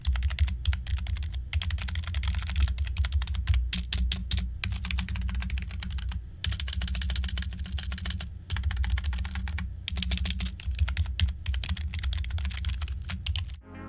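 Steady, rapid typing on a 2E Gaming HyperDrive Pro wireless membrane keyboard, dense soft key clatter running continuously and close up, with no voices.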